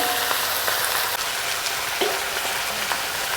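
Meat frying with salt and a ground onion, ginger and garlic paste, a loud, dense, continuous sizzle close to the pan.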